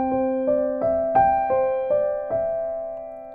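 Piano played slightly faster with left and right hands striking together, about seven evenly spaced chords ringing into each other, close and clear with no voices.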